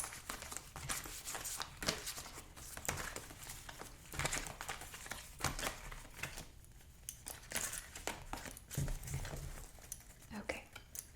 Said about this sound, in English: I'm going to begin to shuffle the cards here.